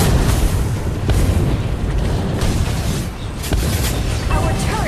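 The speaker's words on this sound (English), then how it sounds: "Your team destroyed a turret." Turret destruction in the mobile game Mobile Legends: a dense, sustained explosive roar with deep booms and crackling bursts that stays loud for the whole stretch.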